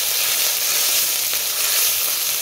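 Chili, ginger, cumin and coriander paste frying in hot oil, a continuous close, bright sizzle with no talking.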